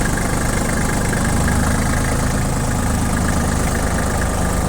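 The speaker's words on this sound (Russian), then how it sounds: "вот такой вот тракторок. Работает, я думаю, слышно, что хорошо." A small Japanese Kubota tractor's diesel engine, fitted with a rotary tiller, runs steadily at idle, a low rumbling chug that stays constant throughout, close by with no voices.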